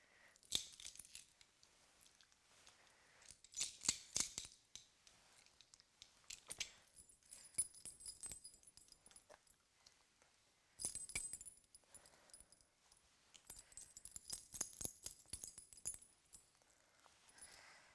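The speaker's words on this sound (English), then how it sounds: "I'm going to jingle the tags and then feed a treat." Small metal tags jingle in several short bursts separated by quiet pauses, close and fairly soft, with no talking.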